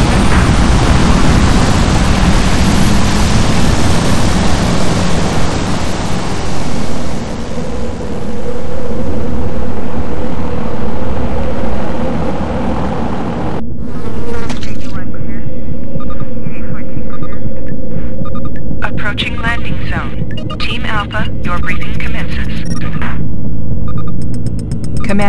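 A transport aircraft taking off in the video game Warzone 2100, a loud, broad roaring hum and throb that swells and then gives way to a lower, steadier drone with flickering electronic noise above.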